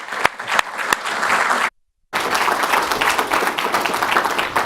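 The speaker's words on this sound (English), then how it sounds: "Can we give a round of applause, please?" An audience at an evening lecture bursts into full applause, with a few sharp early claps building into dense clapping that cuts out briefly, then resumes just as strongly.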